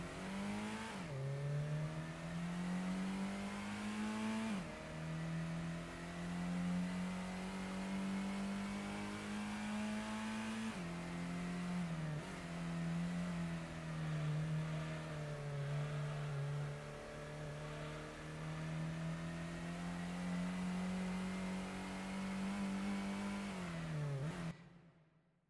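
Car engine in a Gran Turismo 1 race, a strong continuous revving whine that climbs and drops sharply at each gear change across several shifts, steady and close, then cutting out at the end.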